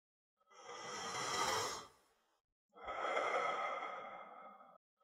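Two long, deep breaths taken during a Wim Hof breathing exercise: a strong inhale, then after a short pause a full, slow exhale, both close and airy with no talking.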